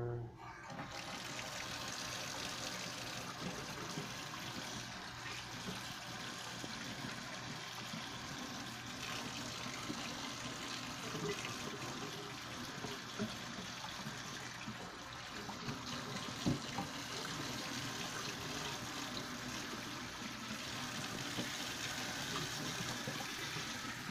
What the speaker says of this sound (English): We got the water running.